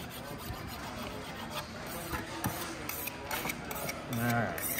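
A file rasping along a knife blade in sharpening strokes, a steady scraping texture with repeated brighter strokes, fairly close and continuous for several seconds.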